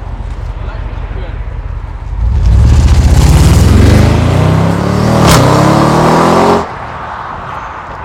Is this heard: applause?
no